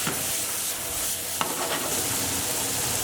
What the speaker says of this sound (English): you want to make sure your pan's hot when you add them in